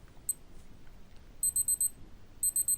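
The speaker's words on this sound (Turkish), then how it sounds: "Ve süre dolduğunda 10 saniye alarm çalar." A Casio G-Shock GA-2000 watch timer alarm goes off in short bursts of rapid high-pitched beeps, one brief chirp followed by two clusters of four quick beeps, loud and close against near silence.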